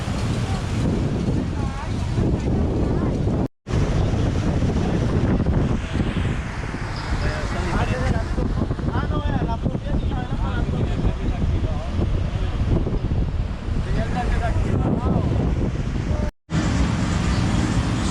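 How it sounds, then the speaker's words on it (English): Strong wind buffets the microphone in a steady roar on the Atlantic coast beach at Tolu, Colombia, with surf-like rushing underneath and faint voices nearby. "Pretty windy along here."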